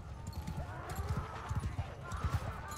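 Horse hooves clip-clop in the video game Mount and Blade 2 Bannerlord, a steady run of soft, irregular thuds at moderate distance under a faint background bed.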